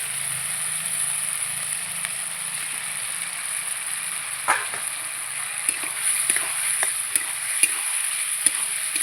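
Chicken gizzards sizzle steadily in hot spiced oil as they are sautéed with masala in an uncovered pan, with a continuous hiss overlaid by intermittent scraping stirs and clinks of a spatula, growing busier toward the end.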